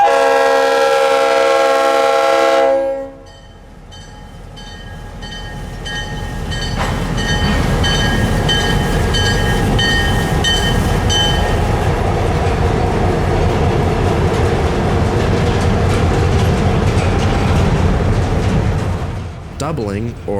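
An EMD diesel locomotive horn blares on the Florida East Coast Railway, then heavy engines rumble and throb steadily as the train pulls out of the yard, with a short horn blast near the end.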